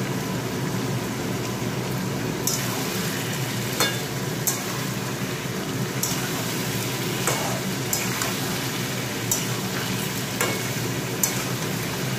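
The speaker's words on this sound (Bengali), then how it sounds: "মাংসটা যত কষাবো তত ভালো হয়। এখানেই অর্ধেক হয়ে যাচ্ছে, কিন্তু সমানে নাড়তে হবে।" Meat being stirred and fried down in a pan, a steady sizzle broken by sharp scraping and clinking strokes of a spatula every second or so, close and alone without talk.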